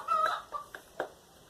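Chickens cluck in the background of a screen-printing shop, a few short, faint clucks and calls spread across a quiet room with no one talking.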